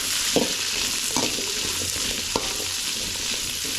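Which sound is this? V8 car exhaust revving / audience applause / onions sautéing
onions sautéing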